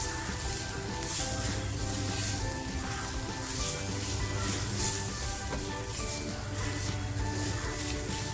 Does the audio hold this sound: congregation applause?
no